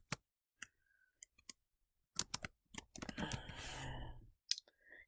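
Name being typed on a computer keyboard: scattered close clicks, then a quick burst of keystrokes blending into a dense rustling clatter, with a final sharp click.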